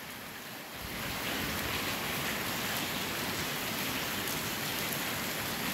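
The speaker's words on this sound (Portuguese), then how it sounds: "o sol tá saindo e a chuva continua caindo fraquinha, gente, devagar" Light end-of-winter rain falling steadily in Guajará-Mirim, Rondônia, a soft continuous hiss of drops that swells after the first second and holds even and close, with no voices.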